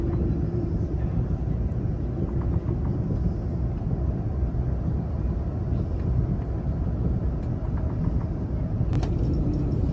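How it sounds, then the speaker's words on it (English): Steady, loud low rumble inside an Amtrak Missouri River Runner coach hauled by Siemens Charger locomotives as the train accelerates along the Missouri River, a continuous roar with no breaks. "Notice how quickly the train accelerates, thanks to the magic of the chargers."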